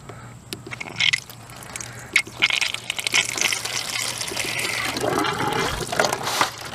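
Water gushing from an opened valve on a pond and rainwater hydroponic filter, a close splashing flow that starts in spurts and builds into a steady, loud rush.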